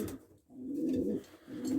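A pigeon cock sitting in a nest box on an allotment coos to the hen, giving a few soft, low, rolling calls with brief pauses between them, close and fairly quiet.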